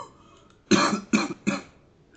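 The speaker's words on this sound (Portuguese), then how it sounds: "Nossa, até tossi aqui." Three sharp coughs in quick succession from a single person, close and loud, after a brief quiet moment.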